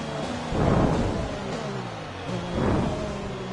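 F1 2020 video game race car engine on a warm-up lap during a My Team season at the Bahrain Grand Prix. The engine surges and fades in two broad swells, with a muffled, rumbling tone and no talk.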